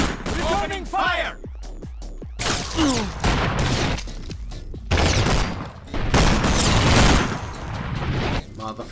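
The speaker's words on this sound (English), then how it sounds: "Returning fire!" Gunfire in the video game El Matador comes as bursts of loud shots and booms between stretches of quieter action, with a voice talking over part of the fight.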